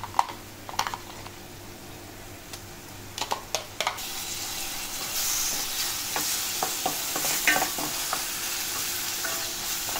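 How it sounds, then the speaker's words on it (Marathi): Chopped tomatoes frying with onion and masala in oil: soft sizzling with sharp spatula clacks and stirring scrapes early on, then the sizzle grows louder and denser, punctuated by more stirring knocks. "तेल सुटेपर्यंत आपल्याला भाजायचं आहे"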